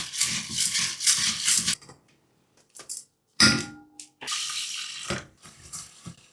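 Wet rice grains being rubbed and polished by hand in a bowl for temaki, bursts of gritty rattling and swishing separated by short pauses, close up with no talking.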